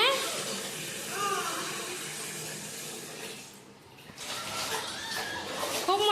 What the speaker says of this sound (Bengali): গামলায় বসে মাম্মাম স্নান করছে।